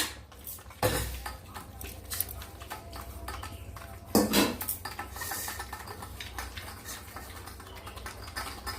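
Rice being mixed in a metal bowl for the cats makes soft scraping and clinking of hand and utensil against the dish, with a couple of louder knocks, close and without talk.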